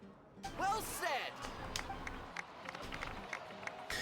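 Applause and crowd noise swell in Genshin Impact, a brief burst of clapping and cheering that settles into a murmuring crowd under game sounds and voices.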